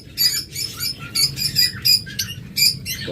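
A bonded pair of lutino Fischer's lovebirds gives bursts of shrill, squeaky chirps and chatter in quick irregular volleys, loud and close, with no talk.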